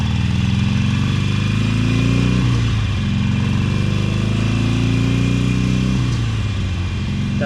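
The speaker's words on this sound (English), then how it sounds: "Kind of go through the gears here and run down the road." A 2016 Harley-Davidson Sportster Iron 883 motorcycle engine runs loud and close, revving up through the gears with brief dips at each shift.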